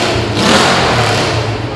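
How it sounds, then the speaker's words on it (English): A loud twin-cylinder Indian motorbike engine runs close by, a throaty, pulsing roar that swells as it revs and then holds steady. "That is quite a loud motorbike. Twin cylinder, the spark plugs in there."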